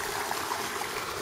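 Rushing water pouring over a spillway after heavy spring rain in Elgin, Texas, a dense, even broadband roar with no pauses, heard alone without voices.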